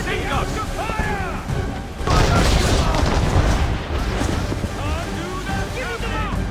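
Ship cannons fire in Assassin's Creed III naval combat, a heavy booming barrage swelling over rushing sea and wave noise, loud and close, with shouted voices in the game around it.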